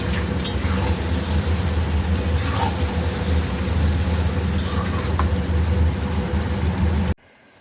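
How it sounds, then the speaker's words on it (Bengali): Meat being sautéed in a pan for a home-cooked meat dish, a steady close sizzle with occasional stirring scrapes running throughout, ending abruptly near the close. "মাংসটাকে ভালো করে কষিয়ে আস্তে আস্তে আরাম করে রান্না করব।"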